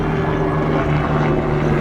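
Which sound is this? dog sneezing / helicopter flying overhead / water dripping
helicopter flying overhead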